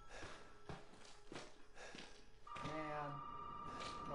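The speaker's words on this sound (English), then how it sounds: "Why is this motherfucking phone ringing?" A telephone rings in the Resident Evil 7 horror game, a steady electronic ring tone starting midway and holding clearly over background game noise and breathing sounds.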